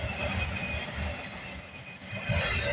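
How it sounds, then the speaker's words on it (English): A CPKC freight train rolls eastbound past Milton, Ontario, its wheels rumbling and squealing steadily on the rails close by, with a grinding metallic hiss that swells near the end and no talk. "What do we got on this eastbound train?"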